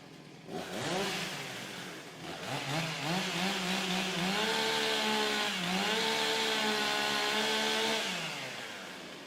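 Chainsaws warming up at a STIHL Timbersports British Women's Championship 2024 event rev and rise in pitch, several engines overlapping in a sustained buzzing whine that eases off near the end.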